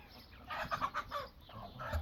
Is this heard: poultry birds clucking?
yes